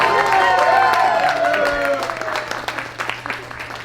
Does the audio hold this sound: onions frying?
no